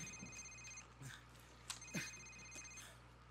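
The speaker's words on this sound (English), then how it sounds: "Sir, it's his cell phone." Cell phone ringing in Call of Duty 4 Modern Warfare, a faint electronic ringtone repeating in short tonal bursts against quiet background hum.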